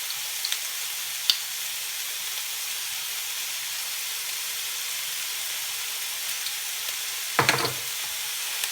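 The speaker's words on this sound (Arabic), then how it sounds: "كنستمر في التقليب ديالها حتى كتشحر" Minced meat filling sizzles steadily in a hot pan with a continuous close hiss, and a spoon scrapes and stirs it a couple of times.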